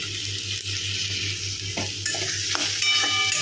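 Green chillies and spices fry in a pan for a fish curry with coriander leaves, giving a steady close sizzle with a low continuous hum underneath and a few soft stirring scrapes.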